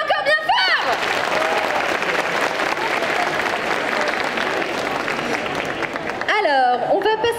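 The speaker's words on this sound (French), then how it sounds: "On l'applaudit encore bien fort!" An audience at a cosplay parade during a Quimper Japan manga convention applauds a cosplayer, with loud, dense clapping that lasts several seconds. A voice speaks briefly before and after it.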